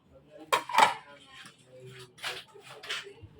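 Eggplant pieces dropped into a cooking pot of mixed vegetables simmering in coconut milk, with a couple of close clanks of utensils against the pot and soft background stirring.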